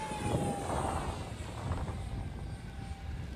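A small Arrows 50mm EDF radio-controlled jet whooshes past on a fast speed pass, a whining fan tone rising and fading at moderate distance with no voices.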